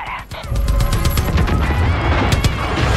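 Rapid gunfire in the video game Far Cry 5: a dense burst of sharp, repeated shots with loud low thumps, crackling close and continuous for a few seconds, with no talking.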